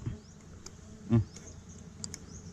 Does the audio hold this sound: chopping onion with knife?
no